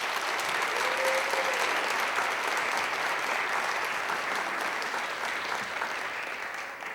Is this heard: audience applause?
yes